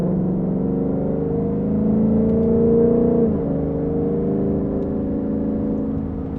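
A car's exhaust drone fills the cabin from inside, a steady low hum that swells briefly as revs rise and then settles back, with no talking over it.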